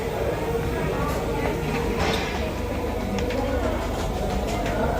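Rumbling train at Sealdah railway station in Kolkata, a steady low roar of rail noise with faint clicks and a busy station hum underneath, continuous and fairly loud.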